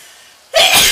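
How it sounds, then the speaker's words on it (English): A single loud, close sneeze, set off by pepper while a cook makes shepherd's pie in a home kitchen. It bursts suddenly out of near silence halfway through. "told you I'd sneeze if I had the pepper"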